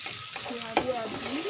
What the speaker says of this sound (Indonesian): Kita tumis aja